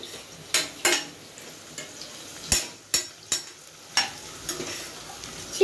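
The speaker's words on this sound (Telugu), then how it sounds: "2 ఆనియన్స్ కొద్దిగా వేగించుకోండి." Two onions fry in a pan with a light sizzle as a spoon repeatedly stirs and scrapes. About eight sharp clinks and scrapes come at irregular intervals over a faint frying hiss.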